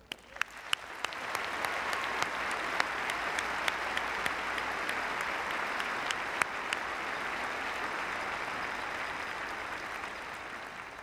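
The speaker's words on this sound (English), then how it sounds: "join me in a round of applause for all of them." Audience applause at a university academic convocation, starting with a few sharp claps and swelling into steady, sustained clapping from a large crowd.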